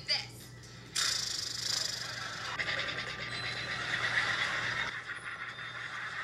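A horse whinnies in the Nickelodeon intro, giving a loud, bright neigh over a steady background hum, with a sharp sound at the very start.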